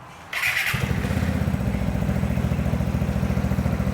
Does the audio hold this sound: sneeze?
no